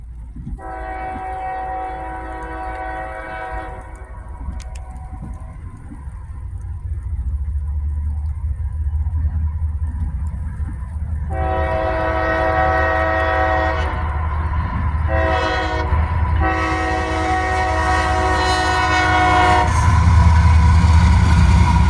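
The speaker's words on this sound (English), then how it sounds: "The final train of the day would be CSX IO10." A CSX intermodal freight train rolls past close by, its rumble building steadily while the horn sounds in long, loud blasts that start and stop several times.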